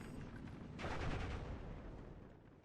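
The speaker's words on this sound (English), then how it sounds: "the AT gun managed to find the kill" An anti-tank gun fires in the World War II strategy game Steel Division: Normandy 44, a single dull booming shot that rises out of a continuous rumbling battlefield din and slowly decays.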